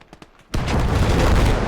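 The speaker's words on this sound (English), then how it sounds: "Massive explosion there." A massive explosion in the World War II game Gates of Hell: Ostfront, set off as a T-34 tank hits a supply crate; a few faint pops come first, then a sudden loud blast rolls on as a sustained rumble.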